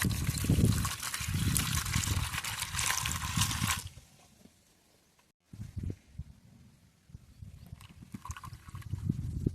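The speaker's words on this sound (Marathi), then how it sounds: "हा असा मोहर धुवून घेतलाय." Mango blossoms are washed in water in a home kitchen: close splashing and swishing, a short quiet pause, then more gentle sloshing and trickling.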